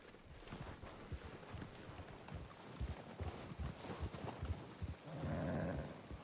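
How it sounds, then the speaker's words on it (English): Horse hooves in the video game Red Dead Redemption 2 thud in a steady, quick clip-clop rhythm close by over a continuous ambient bed, with a low rushing swell near the end and no talk. "Oh, I can't take the horse up there."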